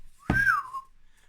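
A person whistles with the lips, one short clear note that swoops up then glides down, close and fairly loud, alone in quiet.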